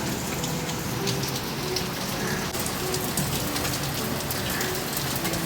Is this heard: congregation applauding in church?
no